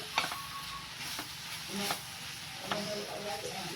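A spoon stirring papaya thoran in a pan with coconut oil, producing a soft ongoing sizzle with several scraping knocks against the pan, close and fairly quiet, with no talking.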